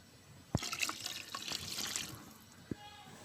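Coconut milk poured into a pot of Bhai-style mutton biryani, making a soft, faint liquid splash and trickle over about two seconds, with a couple of sharp clicks before and after.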